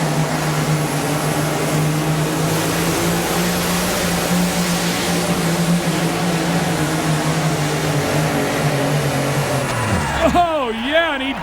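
A Mack semi truck with a KT 450 engine roars loudly and steadily through a pulling run, its drone sustained for about ten seconds before the pitch drops away sharply as the engine winds down.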